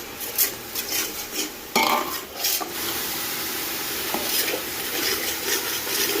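Garlic and curry leaves roasting in a pan for bhungla bataka, stirred with a metal spoon that scrapes and clinks against the pan over a steady low sizzle, close and moderately loud, no voices.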